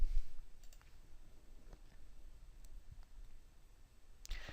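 Faint, sparse computer mouse clicks come at irregular intervals over low background hiss while a portfolio is saved in TradeShark trading software.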